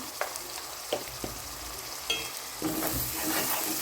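A spatula scrapes and stirs onions frying with ginger-garlic paste, cumin powder and turmeric in a pan for crab curry. Several distinct scrapes ride over a soft, steady sizzle, close up and with no talking.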